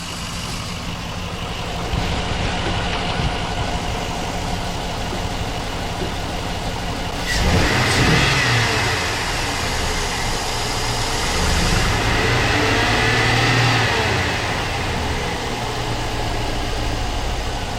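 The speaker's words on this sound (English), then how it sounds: "So, but I'm showing you, look, it runs." A salvaged truck engine runs steadily at idle, a loud continuous rumble close by with a brief rise in revs partway through and no talking.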